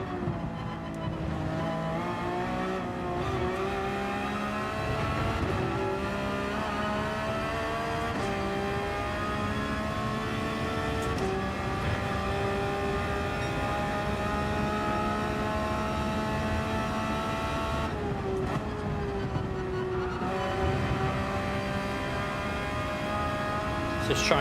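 Race car in Gran Turismo 7 on a track, a steady engine drone with shifting pitch that rises and falls through gear changes, with occasional dips suggesting braking, loud and continuous throughout.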